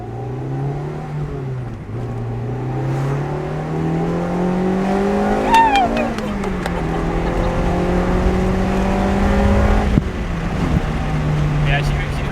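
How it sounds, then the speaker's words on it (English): A Honda engine revs hard through the gears, its pitch climbing in long sweeps and shrieking up high into VTEC, then dropping and climbing again, loud and close inside the car with voices talking over it. "So that is the first time I've ever driven a car and hit VTEC in a Honda"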